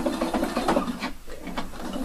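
A sewing machine top-stitches a seam on a pair of jeans near the fly, running in a rapid, even rasping rhythm close by for a couple of seconds.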